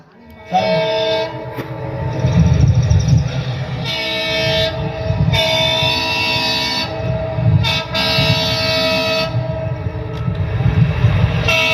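An express train passes close by with a continuous heavy rumble of wheels and wagons, broken by repeated loud horn blasts throughout.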